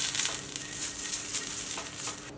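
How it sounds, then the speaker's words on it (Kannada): Oil sizzling and crackling on a hot dosa pan over a low gas flame, a steady close hiss with brief bursts and faint stirring, no talking. "ಹಂಚಿಗೆ ಸ್ವಲ್ಪ ಎಣ್ಣೆ ಹಾಕ್ಕೊಳ್ಳೋಣ."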